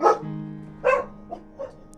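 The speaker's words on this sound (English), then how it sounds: "except for the dogs barking in the background" Dogs bark several times in short bursts, one louder bark first followed by a few softer, more distant yaps, with a low hum underneath.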